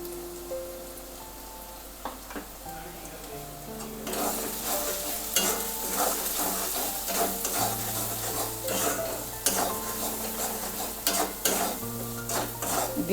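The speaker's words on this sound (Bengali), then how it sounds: "দিয়ে ভালো করে নেড়ে" Spices for a chicken shahi korma stirred in a frying pan: quiet at first, then a close, steady sizzle with rapid clinking scrapes of a spoon against the pan, continuing alone without voices.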